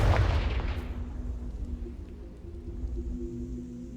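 A Confringo spell explodes in the Hogwarts Legacy video game, a sharp booming blast that decays over about a second into a low lingering rumble with a faint hum beneath.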